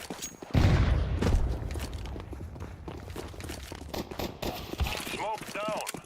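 A flashbang grenade detonates in Counter-Strike 2 with one sharp, loud burst, followed by a busy rumble of game sounds.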